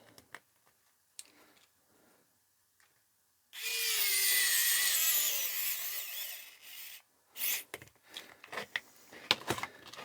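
A screwdriver tightens hex screws into a 3D printed Bambu mouse, giving quiet scattered ticks and clicks, then a few-second harsh scraping burst up close, followed by more sharp clicks.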